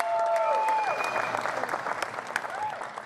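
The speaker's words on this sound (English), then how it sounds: "Can I get a round of applause for my baby girl?" Applause from a crowd at a boxing press conference fills the room, sustained clapping with a few louder individual claps, while a faint whistle tone rises and falls over it.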